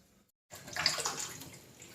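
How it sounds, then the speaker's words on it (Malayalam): Water being poured off boiled tapioca after pressure cooking, a close splashing gush that starts suddenly after a brief silence and runs steadily for over a second. "വെള്ളമൊക്കെ കളഞ്ഞു"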